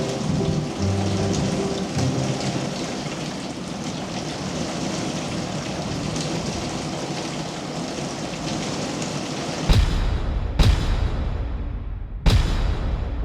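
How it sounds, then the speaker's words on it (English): Steady heavy rain falls through a backpacking campsite at night during a thunderstorm, loud and continuous, with sharp, close thunder cracks near the end and no talking. "After listening to the storms roll through last night"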